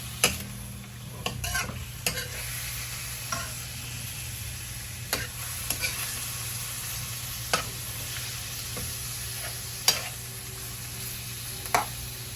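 Pork belly sautéing with garlic and butter in a pan, a soft steady sizzle close by broken by regular sharp clacks of a utensil stirring against the pan, no talking.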